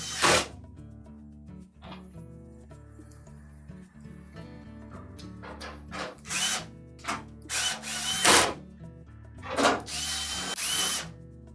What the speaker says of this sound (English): we'll begin by installing one of the screws through to the cabinet